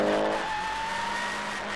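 A Mitsubishi rally car on a forest stage at the Quit Forest Rally roars past loudly, its engine note sliding in pitch while tires hiss and squeal on the surface.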